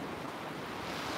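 Ocean surf washes steadily at sunrise, a continuous broad rush of breaking waves with some wind buffeting the microphone and no distinct individual crashes.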